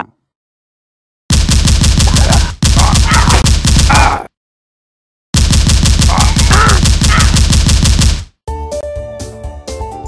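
Full-auto AK rifle fire in Redneck vs Zombies, loud and close, coming in three long sustained bursts split by short silences, followed by a brief stretch of game music.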